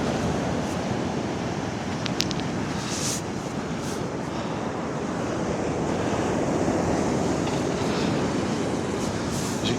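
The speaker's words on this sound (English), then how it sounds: "So the waves." Ocean waves break on Hendon Beach under gusting wind, a continuous roaring wash of surf with buffeting wind noise on the microphone throughout.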